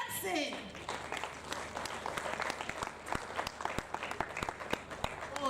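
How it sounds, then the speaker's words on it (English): An audience at a panel conversation applauds a speaker being welcomed to the stage, producing scattered, moderately sparse clapping from a modest crowd that continues steadily at a fairly quiet level. A voice is heard briefly at the start. "with a resounding round of applause, can we make welcome the CEO, Sidani Group, in the person of Dr. Sidney S"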